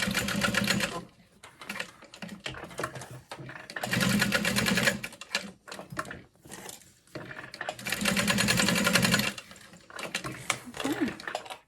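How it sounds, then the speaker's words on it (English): A sewing machine runs a box stitch through a folded edge on a fabric bag, its rapid needle chatter coming in several loud, close bursts separated by short pauses and faint handling sounds. "I folded the raw edge under, and I'm just doing a box stitch"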